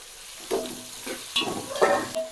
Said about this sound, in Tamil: இது நல்லா பொன்னிறமாக வதங்குற வரைக்கும் வதக்கிட்டே இருக்கும்.